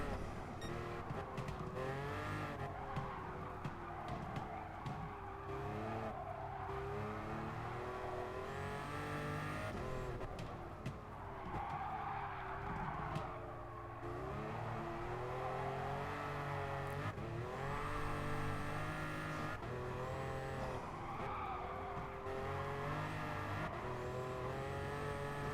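A Lamborghini race car engine in the Gran Turismo Sport game, in a midship challenge, roars continuously with revving, gear changes and tire squeal. It stays loud and steady throughout.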